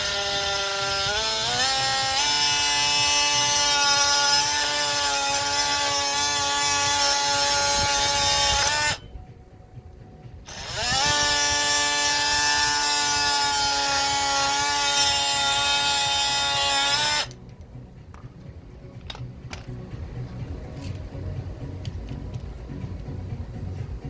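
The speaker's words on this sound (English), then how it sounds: "If you're not comfortable with using the oscillating tool, be very careful, because if it slips, it's going to cut your hand." An oscillating multi-tool cutting through a plastic aquarium overflow strainer, a loud buzzing whine in two long bursts separated by a brief pause, then a quieter tail of handling sounds.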